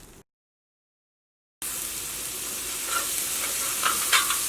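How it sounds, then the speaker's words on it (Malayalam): Masala paste fries and sizzles in hot coconut oil for an egg biryani, a continuous close crackling hiss with brief stirring scrapes, heard alone after a short silence. "അപ്പോൾ ഇത് നന്നായിട്ടൊന്ന് മൊരിയട്ടെ."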